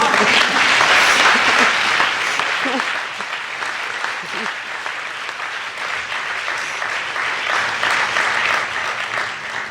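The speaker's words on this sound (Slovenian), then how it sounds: "Jaz predlagam, da še enkrat zaploskamo." Steady, dense applause from an audience at a Ljubljana city honours ceremony, loud and sustained throughout, easing slightly after the first few seconds but continuing alone.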